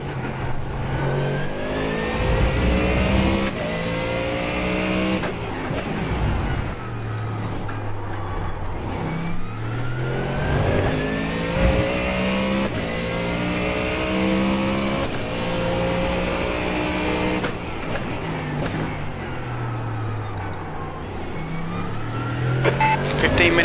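Ford Mustang GT3 race car engine in iRacing at Navarra, revving up and down through gear changes, loud and continuous with rising and falling pitch sweeps, with someone talking over it.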